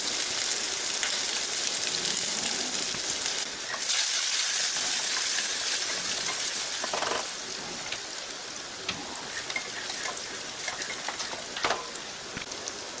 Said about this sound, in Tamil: அடுத்து தான் நம்ம நறுக்கி வச்ச வெங்காயம், பூண்டு ரெண்டையுமே சேர்த்துடலாம்.